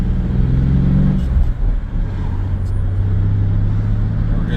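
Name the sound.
1996 Chevy S10 4.3 truck with Holley Sniper driving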